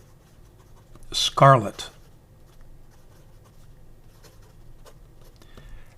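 Lamy Safari fountain pen writing on paper: faint, close scratchy nib strokes in short, light bursts after a brief spoken word.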